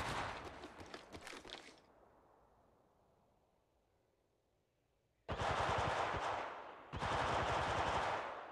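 Automatic weapon fire in Apex Legends opens with a rattling burst that dies away, then after a quiet gap two long, loud, close sustained bursts of rapid shots.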